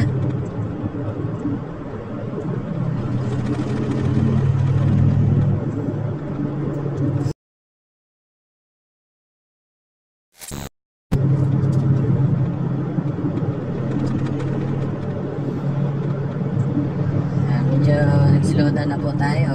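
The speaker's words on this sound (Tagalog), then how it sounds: "kasi marami na pong sasakyan sa daan." Steady road traffic on a Zambales highway between Masinloc and Iba, a continuous mid-distance rumble of many passing cars and engines, broken by a brief silent gap before resuming.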